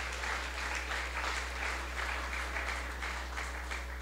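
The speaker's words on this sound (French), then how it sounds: "frappez mon vous capable applaudir pendant que y a pas avancé." A church congregation at a Sunday service claps steadily in a dense, continuous wash of applause, with a constant low hum running beneath it throughout.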